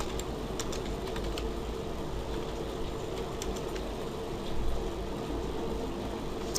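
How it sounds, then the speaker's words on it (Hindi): Soft keystrokes on a computer keyboard as a single word is typed into Microsoft Word 2003, faint clicks scattered over a steady background hum with no talking. "सबसे पहले हम एक लफ्ज़ टाइप कर लेते हैं।"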